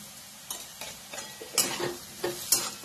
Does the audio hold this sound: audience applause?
no